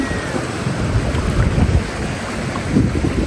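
Sea waves wash onto Tondol Beach in Anda, Pangasinan, a steady rushing surf mixed with heavy wind buffeting the microphone.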